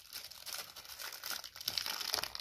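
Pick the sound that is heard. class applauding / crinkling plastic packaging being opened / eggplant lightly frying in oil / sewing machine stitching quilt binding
crinkling plastic packaging being opened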